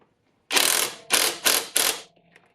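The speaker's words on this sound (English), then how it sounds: "I'm just going to tighten it down with the impact." An impact wrench tightens a 10 mm bolt on a 2008 Acura MDX, giving four loud, close hammering bursts, the first longest, followed by faint clatter.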